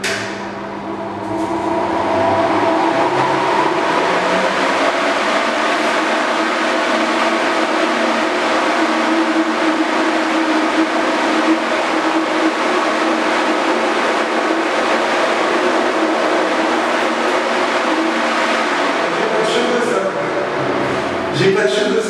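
Helical fan pushing 3200 m³/h of hot air to dry out a house after painting, a loud, steady broadband roar with a low hum, continuous and close for the whole stretch with no pauses.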